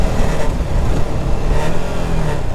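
The engine of a KTM RC 390 motorcycle pulls steadily under acceleration while riding, a loud, close, continuous drone mixed with rushing wind.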